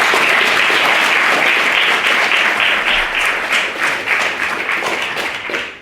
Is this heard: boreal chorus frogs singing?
no